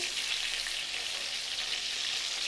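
Stuffed brinjals frying in oil on a medium flame, an even, continuous hissing sizzle close up, steady and unbroken with no talk.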